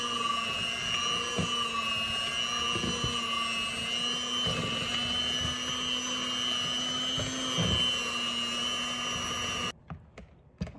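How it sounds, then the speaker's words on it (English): An electric mixer beats sweet potato pie filling with a steady, moderately loud motor whine and soft repeated knocks of the beaters against the bowl, then stops near the end. "we're going to get our handy dandy mixer and we're going to mix it"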